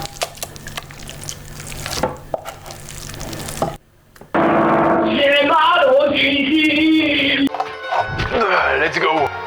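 Frozen carrots and sausages simmer in a little water in a pan, giving a loud, steady bubbling sizzle that starts abruptly after a brief pause and runs for several seconds.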